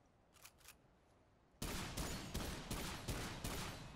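AA-12 shotgun fired in the video game Remnant 2: two faint distant blasts, then a loud rapid burst of about six close, heavy shots in quick succession.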